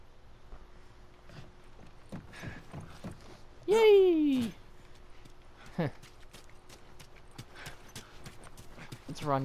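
Horse hooves clip-clopping in a loose rhythm, with a horse whinny partway through and soft sounds in the background, in the video game The Last of Us Remastered.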